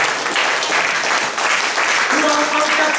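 A church congregation cheering and applauding at a worship service, a steady, dense wash of clapping and voices throughout, with some shouting rising near the end.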